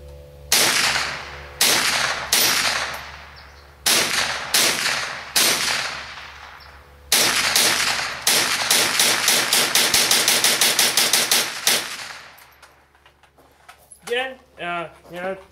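A GSG AK-47 rifle emptying a magazine outdoors, sharp loud cracks first singly and in short bursts, then a rapid string of shots, followed by people talking.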